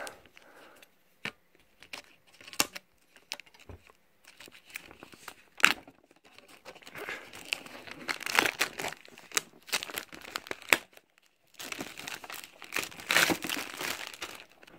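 Plastic packaging on a Pokémon collector chest crinkles and crackles in bursts, with sharp scissor snips and tearing sounds between quieter pauses.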